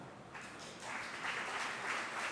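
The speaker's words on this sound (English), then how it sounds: "So you need at least to get your hands together, right? And then you can decide on the loudness of your clap." Audience applause at the main stage of the IDCEE 2012 conference closing session, a steady wash of clapping from a crowd that swells after the first second and holds fairly loud to the end, with no talk over it.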